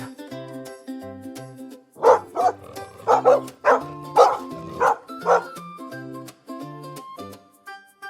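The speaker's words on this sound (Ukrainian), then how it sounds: "а песик каже гав-гав, гав-гав" A dog barks in a quick series of bursts over a gentle, plinking melody, with calmer musical passages before and after.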